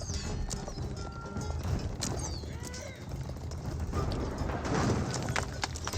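Horse hooves clatter in Age of Empires 4 as mounted knights charge at villagers, a busy clip-clop mixed with battle noise and some bird-like calls, with no talking.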